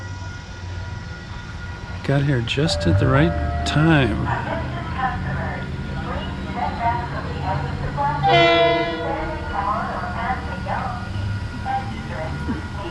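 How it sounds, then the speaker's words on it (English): A southbound train rumbles into the station at Pawling, New York, with a loud horn blast and ringing crossing bells, followed by a high brake squeal as it slows; someone talks over it. "there's a train coming, and here it comes, the southbound train."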